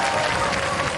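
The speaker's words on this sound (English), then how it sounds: "ladies and gentlemen, give them a round of applause" Audience applause for a Robot Wars team in the arena, a dense, steady wash of clapping and crowd noise, loud and close, with no break.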